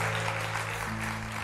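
A Turkish daytime TV studio audience applauds as guests come on, steady continuous clapping under a sustained musical tone, filling the whole moment without a break.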